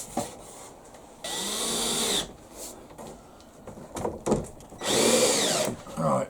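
A power drill driving screws into plywood wall cladding in two long bursts with whining pitch, separated by handling clatter and short knocks, close and loud.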